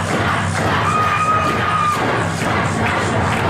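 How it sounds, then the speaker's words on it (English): A wrestling crowd cheers and shouts for a wrestler's entrance, a dense continuous roar of fans on their feet with scattered whoops and a sustained yell rising above the din. "A lot of these fans on their feet, cheering for him."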